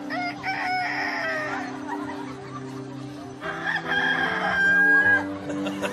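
Roosters crowing, one long crow followed after a pause by another, clear and fairly close over a background of studio music and low murmur.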